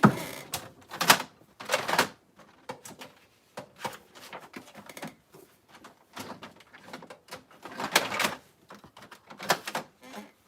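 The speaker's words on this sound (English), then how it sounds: "Let's see how they print on my printer." A home printer prints on cardstock, giving bursts of mechanical feed and clatter with quieter whirring gaps between them, close and moderately loud.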